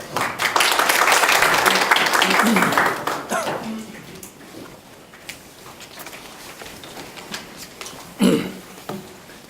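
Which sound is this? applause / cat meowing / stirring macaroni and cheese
applause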